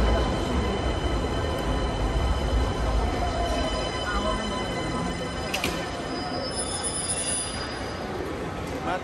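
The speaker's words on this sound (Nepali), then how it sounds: "एयरपोर्ट जान लाग्यो ट्रेन पनि आयो" A bullet train bound for Narita Airport rolls into the station with sustained wheel squeal and rumbling rail noise, loud and close throughout, while people talk in the background.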